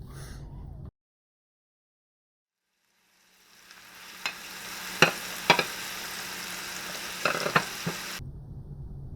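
Onion with a small amount of jalapeno frying in a pan, a steady sizzle rising after a brief silence, punctuated by several sharp pops and crackles before cutting off.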